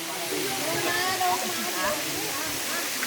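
Rushing water at Thi Lo Su waterfall, a steady broadband roar filling the scene, with people talking and exclaiming over it.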